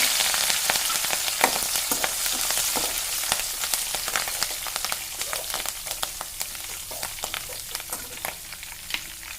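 Oil heats and sizzles steadily in a pan while palak cabbage manchurian is being cooked, a dense, close frying crackle with frequent sharp pops throughout and no voices.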